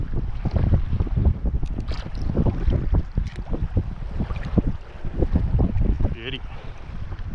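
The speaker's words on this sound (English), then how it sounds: "That wind's a bit much, so I've turned around." Strong wind buffets the microphone on a small fishing boat on a squid-fishing morning, a loud continuous rumbling roar with gusts and water slaps, and someone speaks briefly over it.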